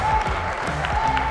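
Crowd applause after a table tennis point at a professional tournament, a dense steady burst of clapping heard up close, filling the whole short moment.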